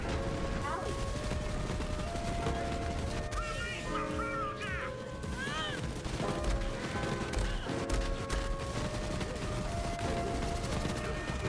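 Rapid bursts of La Varlope rocket assault rifle fire in Borderlands 3 with explosive crashes, dense and continuous, mixed with game effects and a voice talking over it.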